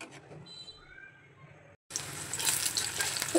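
Chopped onion, garlic and four dried chilies fry in hot oil as a tempering for dal gosht, starting as a faint sizzle, then after a brief cut turning into a loud, steady crackle.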